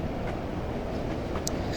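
A train coasts at low speed in Train Simulator 2016 on the Durham to Darlington route via Bishop Auckland, giving a steady, close rumble of wheels on track. A few faint clicks sound near the end, with no talk over it.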